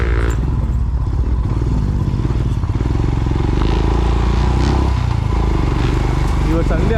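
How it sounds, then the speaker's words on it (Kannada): Motorcycles ride along an offroad trail near Achalu Betta, Kanakapura. A loud, close engine rumble with rattling clatter runs throughout, and voices can be heard talking over it. "ಇವತ್ತು ಸಂಡೇ ಆಗಿರೋದ್ರಿಂದ ತುಂಬ ಜನ ಬೈಕಲ್ಲಿ ಬರ್ತಾರೆ ಈಗ"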